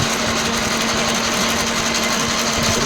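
An early 1900s camelback drill press runs under power feed, its spindle turning with a steady, close mechanical whir and a fine gear rattle, alone and unbroken.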